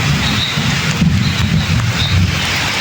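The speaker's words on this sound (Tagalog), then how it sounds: "Ayan na, lakas na ng kulog" Heavy rain pours steadily on a dark night trek beside a muddy creek, with low thunder rumbling underneath and swelling briefly around the middle.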